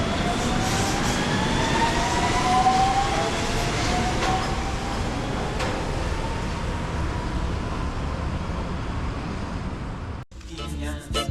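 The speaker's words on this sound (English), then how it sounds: "We'll watch this train go out before we do our intro." A Macau Light Rail Transit train rumbles and hums steadily as it pulls away from a station, with faint wheel squeal and a rising tone, then the sound cuts to quieter talk.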